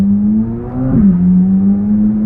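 A 2023 Chevrolet Corvette Z06 engine idles in neutral with a loud, steady drone heard from inside the cabin, swelling briefly in a quick rev near the middle before settling back to an even hum.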